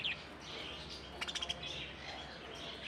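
Female pet birds, spangle budgies among them, chirp in a home aviary with faint, scattered tweets and a brief quick burst of calls near the middle, heard alone in a quiet room.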